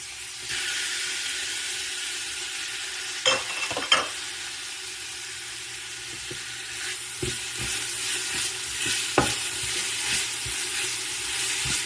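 Ginger-garlic paste sizzles steadily in hot oil in a pan for a Jaffna mutton curry, with a broad frying hiss and a few sharp scraping clinks of stirring standing out near the start and scattered later.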